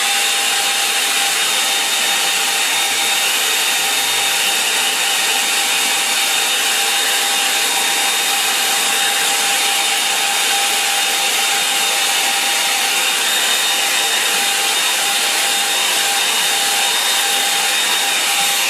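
A hair dryer blows steadily on a watercolour estuary painting to dry the wash, a loud, even broadband roar with a faint whine that runs unbroken for the whole stretch, no voices over it.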